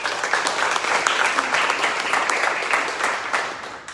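Applause from an audience at an evening panel discussion on women's public safety and resilience, a dense, steady patter of many hands that holds for several seconds before starting to taper off.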